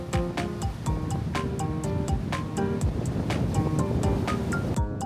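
Constant roar of ocean surf washing in at Shirahama, Wakayama, Japan, with a gentle melodic tune playing over the steady rush of water.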